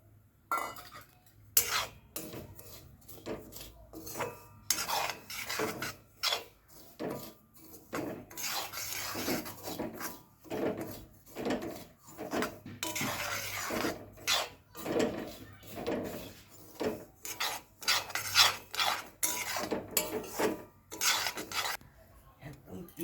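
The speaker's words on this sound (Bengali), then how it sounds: "আমি সুজি ভাজছি" A spoon scrapes and clinks steadily against a pan, with rhythmic rubbing strokes of dry semolina being stirred as it fries, continuous and close.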